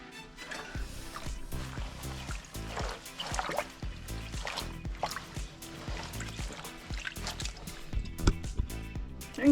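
Water splashes, drips and trickles unevenly as a well-used item, likely a running item, gets washed outdoors, with irregular close splashes and dribbles throughout.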